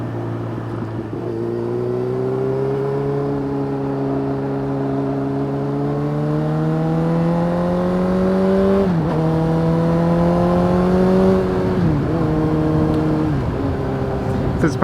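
A Honda CB motorcycle on a fall country ride accelerates hard and alone, its loud, close engine note climbing steadily through the gears with brief dips at each shift.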